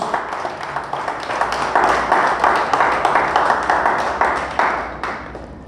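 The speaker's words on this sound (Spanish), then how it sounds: "Dele fuerte el aplauso a Dios." A church congregation claps in a rhythmic, sustained burst of applause that swells and continues throughout, dense and fairly loud in a big room.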